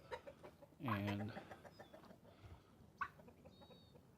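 A rooster and chickens at an animal sanctuary, with one loud, close cluck or short crow rising out of quieter background clucking and soft farmyard sounds, and a brief spoken word.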